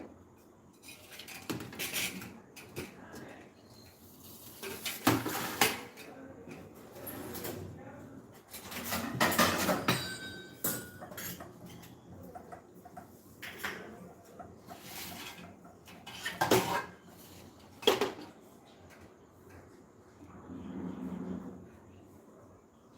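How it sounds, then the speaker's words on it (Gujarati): Boiled potatoes are mashed in a metal bowl for pani puri masala, with scattered clinks and scraping knocks of a utensil in bursts separated by quiet pauses, fairly close and moderately loud. "મેશ કરી લઈશું બટેટા તમે"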